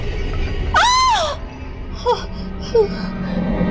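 A woman's sharp scream of fright in a horror tale, one loud rising and falling shriek lasting about half a second, then a few faint gasps and whimpers over a low background hum.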